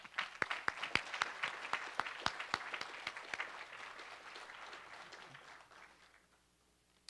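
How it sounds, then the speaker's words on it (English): Applause from a college forum audience, starting with sharp, distinct claps that thicken into a steady patter and then gradually fade to near silence. "Let's give them a round of applause as well."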